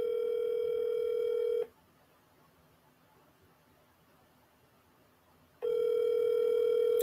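A telephone rings on an outgoing call: a loud, steady electronic tone for about a second and a half, several seconds of silence, then the tone starting again.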